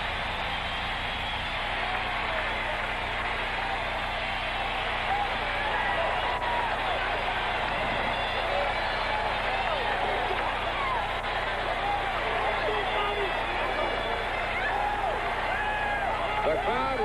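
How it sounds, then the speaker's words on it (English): Huge stadium crowd in Lincoln roars steadily and loudly at a college football game as Nebraska's Cornhuskers beat Alabama 31-24 at home in 1977, a dense, sustained wall of cheering and applause with no break. "The crowd roaring as they should"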